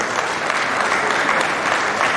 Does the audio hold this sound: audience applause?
yes